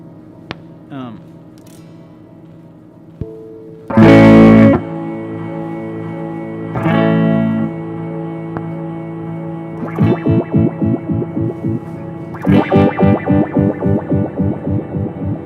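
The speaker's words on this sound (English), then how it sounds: "I can add a little bit of tremolo in there" Electric guitar notes and chords ring out with a tremolo effect, later ones pulsing in quick rhythmic chops; separate phrases with pauses between, fairly loud and close.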